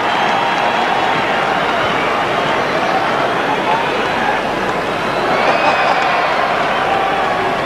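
Steady roar of a large cricket crowd at a 2002 Australia versus South Africa one-day international, a dense, continuous wash of distant voices with a slight swell partway through.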